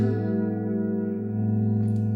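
A sustained electric guitar note rings through a Marshall MG30CFX 30W 1x10 combo amp, its tone swirling with a hollow, sweeping flanger effect, steady and fairly loud.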